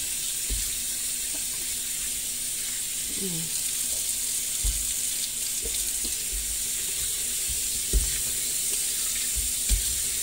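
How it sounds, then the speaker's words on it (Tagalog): Tap water runs steadily into a sink as a large fruit is washed, a continuous close splashing hiss with occasional knocks and handling sounds, and a voice speaks briefly. "Ayan, hugasan natin para kung ibiak natin, malinis na."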